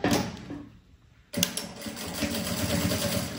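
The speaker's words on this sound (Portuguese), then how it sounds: "dobrei a largura do meu elástico, vou passar uma costura aqui" Sewing machine stitching across folded elastic on a handmade backpack, a close rapid mechanical whir that pauses briefly and then runs steadily again, with no talking.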